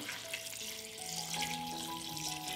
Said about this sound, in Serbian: Napunit ću šerpu sa vodom.